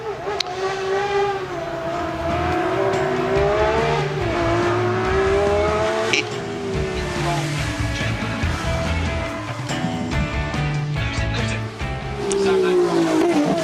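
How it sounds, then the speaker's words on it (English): A 1979 BMW M1 race car accelerates hard on the Goodwood Festival of Speed shootout course, a loud sustained engine roar with rising and falling pitch as it shifts, beneath a commentator talking. "Sam Hancock blasts away in the BMW then."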